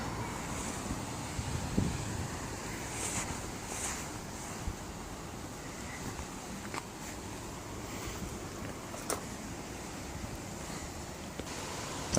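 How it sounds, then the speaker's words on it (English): Steady outdoor wind blowing around a polytunnel, a continuous broadband rush with occasional gusts and light buffeting on the microphone, no voices present. "The wind is blowing"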